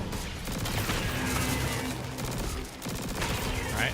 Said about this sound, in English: We got to shoot these inside ones again.